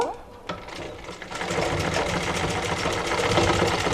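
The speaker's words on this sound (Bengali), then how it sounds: "তো সেলাইটা আমি ডাবল করে দিয়ে দিব" A sewing machine double-stitches blouse fabric, giving a couple of short starts before settling into a continuous, fast, close mechanical whirring that runs to the end.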